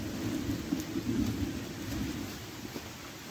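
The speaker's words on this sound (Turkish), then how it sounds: "Gök gürültüme sesi de bilmiyorum, geliyor herhalde" Thunder rumbles low and steadily in a forest at Çatalca's İnceğiz caves picnic area, under a fine light rain pattering on leaves, with a soft continuous hiss and no voices.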